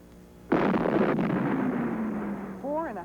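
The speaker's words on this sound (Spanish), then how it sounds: "En una fracción de segundo habrán millones de enlaces químicos quebrándose y reformándose para producir una explosión" A rock cliff is blasted with ammonium nitrate fuel oil and TNT, a sudden loud boom followed by a long rumbling roar that slowly fades, with a voice speaking over the tail.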